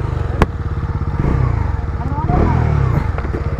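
A KTM Duke 250 and a Bajaj Dominar 250 motorcycle rumble in a drag race, a pulsing engine throb that rises as they pull away, with voices talking over it.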